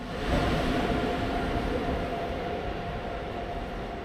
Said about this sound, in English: our train carriages are first pulled out of the station to the nearby depot in order for the train to be cleaned